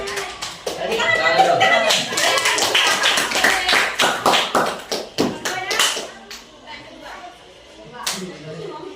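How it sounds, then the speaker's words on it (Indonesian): Children clap their hands in a classroom religious studies lesson, a burst of sharp claps that thins into a few separate claps, with voices heard over them. "Tepuk tangan kau aja."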